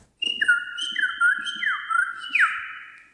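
A human voice imitates a coucal (kembutha) with a run of loud whistled calls, each sliding downward and repeated about four times in steady succession, alone without talk.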